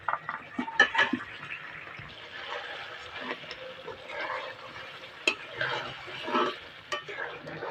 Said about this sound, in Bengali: আলু মশলা কষিয়ে নিয়েছি ভালো করে